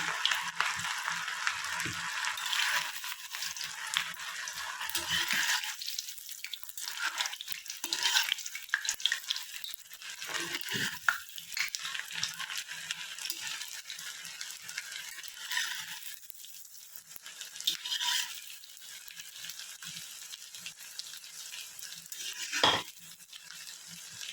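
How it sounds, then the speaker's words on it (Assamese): Vegetable Manchurian balls dropped a few at a time into hot refined oil, a steady crackling sizzle with occasional clinks and stirring scrapes from the pan, no voices over it. "এতিয়া মোৰ তেলখিনি গৰম হৈ গৈছে, আৰু ইয়াতে মই এতিয়া এই বলছকেইটা লাহে লাহে দি যাম"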